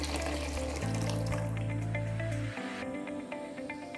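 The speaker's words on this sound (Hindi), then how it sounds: "बाकी बचा हुआ जो मिल्क था अब वो ऐड करेंगे।" Remaining milk being poured into a pot of saffron kheer, a steady close liquid stream running for a couple of seconds and then tapering into a lighter trickle.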